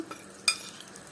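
A spoon scrapes and stirs flour through melted ghee in a pan, a thick mixture, with a light sizzle and one brief metallic clink.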